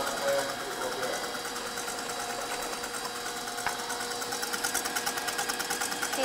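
An electric mixer whips egg whites for baking, giving a steady close mechanical whir and buzz that runs throughout without break, its motor rattle pulsing faintly near the end.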